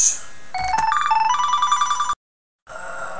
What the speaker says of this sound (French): je m'excuse pour le téléphone